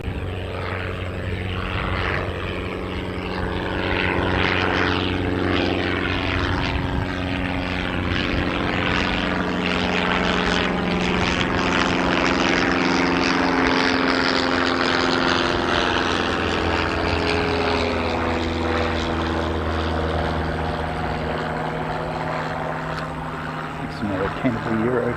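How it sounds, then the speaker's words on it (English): A Canterbury Aero Club propeller plane departs, its engine drone steady and fairly loud for the whole stretch, with a shifting tone as it climbs away. "Another Canterbury Euro Club aircraft departing."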